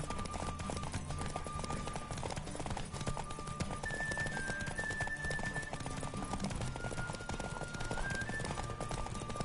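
A horse gallops in a rapid clip-clop rhythm under a steady musical backdrop in The Witcher 3 video game, the hoofbeats continuous and fairly quiet.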